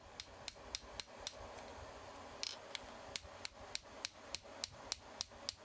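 Rapid, regular hammer blows on hot steel ring out while forging a hot-cut hardy tool, a sharp metallic strike about every third of a second over a low steady hum, fairly faint.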